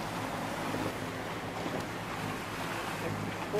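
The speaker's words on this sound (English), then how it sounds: "We're sailing by the lee now." A sailboat running by the lee at sea, with a steady broad rush of wind, water and waves washing past the hull, loud and continuous for a few seconds.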